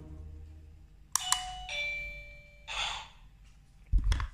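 A two-tone battery-free Linbell wireless doorbell chime rings once, clear and close, followed by a soft breathy sound and a brief thump.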